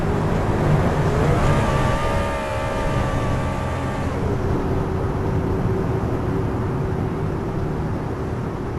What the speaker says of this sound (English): the 39, as he does this little burnout there in the grass